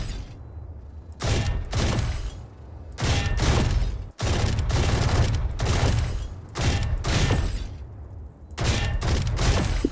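Gunfire at practice targets in the video game Valorant: bursts of rapid automatic shots in several separate volleys with short pauses between, loud and close, alone without talk.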